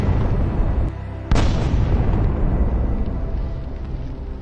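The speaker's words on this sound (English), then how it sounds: "Then the javelin destroys another Russian armored vehicle." A Javelin anti-tank missile strikes a Russian armored vehicle with a single sharp blast, followed by a heavy rumbling roar that slowly fades, with no voices.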